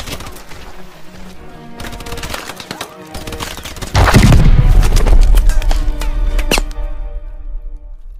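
Dense gunfire rattles through a war movie battle scene, with rapid overlapping shots and a heavy booming burst in the middle that fades into scattered cracks.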